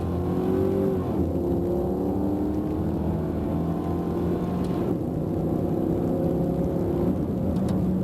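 Ford car with an AOD-HP automatic transmission driving under load, a steady engine drone with a slight rise and a shift change partway through, loud and continuous with road and wind noise.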